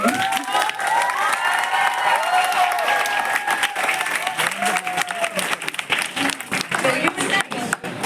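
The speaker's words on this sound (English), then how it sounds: "Big round of applause for Indu ma'am." Sustained applause from a large crowd at a school Model UN closing ceremony, dense clapping throughout, with voices and cheering mixed in.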